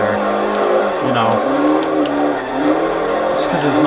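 A BMW F10 M5 engine drifting in Forza Horizon 2 revs up and down loudly and close, its pitch rising and falling as the car slides, while someone talks over it.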